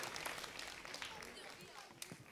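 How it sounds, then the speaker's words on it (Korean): Faint, steady applause from a concert audience at a school teacher-student charity concert, a continuous wash of many hands clapping at a distance with no distinct individual claps standing out. "우리 쑥가스에게 여러분 다시 한번 큰 박수 부탁드리겠습니다"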